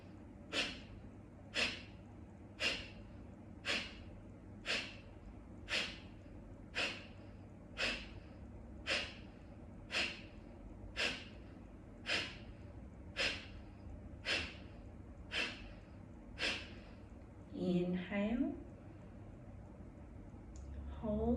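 Slow, steady breathing exercise with a quick, sharp inhale through the nose roughly once a second, about sixteen in a row, then a longer, softer breath near the end; close and quiet, with no talking.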